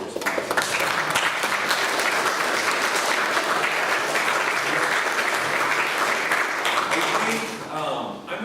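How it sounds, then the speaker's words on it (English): A keynote audience gives Joe a sustained round of applause, dense clapping from a large crowd holding steady for about seven seconds before tapering off at the end. "I think we owe Joe another round of applause for that wonderful response."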